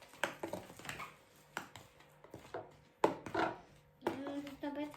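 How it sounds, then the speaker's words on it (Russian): Spoons stir and scrape a salt dough of flour and salt in a bowl, giving irregular soft knocks and gritty scraping at close range, with a brief voice near the end. "Мы перемешиваем наше тесто, чтобы соль соединилась с мукой."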